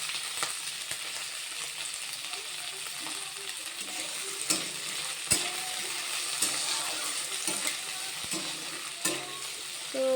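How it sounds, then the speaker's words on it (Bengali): Flat beans and potatoes fry in a pan with a constant close sizzle, punctuated by repeated clicking scrapes of a spatula stirring at irregular intervals, with no talking. "তো আজকে সিম দিয়ে আলু দিয়ে ভাজা করব।"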